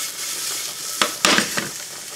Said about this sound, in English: Gotta add the shrooms, man.